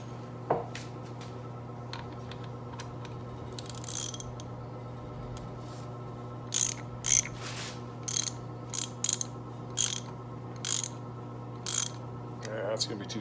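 A ratchet tightens a fastener on a 1985 Harley FXRS Evo clutch, making a series of close clicking bursts in short irregular strokes over a steady low background hum, with a few metallic taps.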